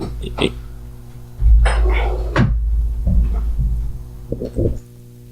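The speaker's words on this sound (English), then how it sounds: "would you mind closing the door?" Indoor door handling: a few knocks and rattles lead into a heavy low thump and shuffle as a door swings shut, then several more close knocks, with brief bits of talk in the room.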